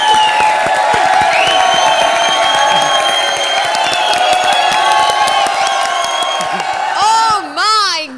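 A comedy show's studio audience claps and cheers loudly in a dense, continuous burst with whoops, and voices break through at the end.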